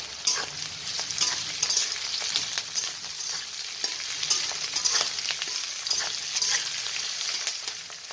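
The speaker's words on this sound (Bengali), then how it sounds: "আমি পরে করে সবগুলো খুব বেশি তো ভাজছি না, একটু নাড়াচাড়া হবে।" Carrot, beans and capsicum are stir-fried in oil with a steady crackling sizzle, and frequent scraping taps of the spatula punctuate it throughout.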